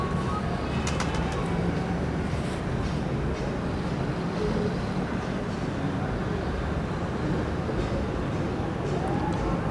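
Pigeons coo softly at a pigeon club loft in winter, their murmurs blended into steady broadband background noise with a few faint high chirps early on and no clear talk.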